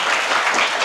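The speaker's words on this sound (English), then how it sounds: "please, everyone, a round of applause to our guest," An interview audience applauds a guest, the deputy CEO of a bank, with a brief, loud burst of many hands clapping close together.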